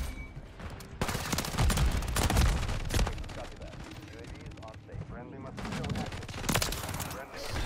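Sustained automatic gunfire in the video game Call of Duty MW3: dense rapid bursts of shots, loud and continuous with brief gaps, and a player's voice talking over the shooting.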